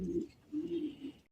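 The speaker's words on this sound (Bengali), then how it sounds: "মানে দুইটা কবুতর।" A pair of large Chila pigeons cooing: three soft, low coos close by, two at first then one more after a short pause, with no other sound.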